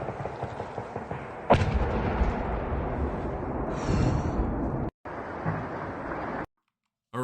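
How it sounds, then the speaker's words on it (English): Anti-aircraft gunfire and small arms fire during a strike in a Ukraine–Russia war setting, a continuous rumbling barrage with a sharp crack and a distant whine, heard from nearby. "we can see lots of anti-air gunfire, and also probably small arms being used as well"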